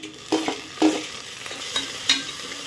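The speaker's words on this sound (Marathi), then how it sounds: "आता इथे आपला कांदा चांगला भाजून झाला आहे। आता आपण टोमॅटो टाकून घेऊया।" Tomatoes and onions sautéing in hot oil for mutton curry sizzle up close, with several distinct scraping stirs of a spatula against the pan over a short stretch.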